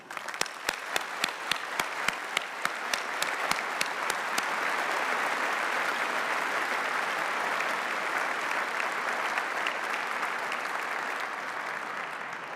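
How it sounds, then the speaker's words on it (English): Sustained applause fills a graduation ceremony hall for the graduating class, starting with a few distinct claps that swell into a dense, steady roar of many hands that holds evenly throughout. "let's start, ladies and gentlemen, with a round of applause for our graduating class"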